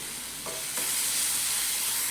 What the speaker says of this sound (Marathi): बघा, मिरची छान अशी आपल्याला एकदम भाजून घ्यायची.